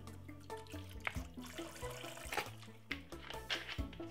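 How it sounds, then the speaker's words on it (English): Vinegar is poured into water in a basin used to wash raw chicken at home, giving a quiet, continuous trickle and splash of liquid with small irregular drips. "let's put a little bit more vinegar in the water."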